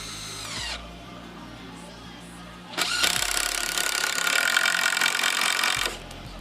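A power drill drives screws through a roof batten into a rafter, a short whine first, then a longer loud, close burst of drilling after a pause.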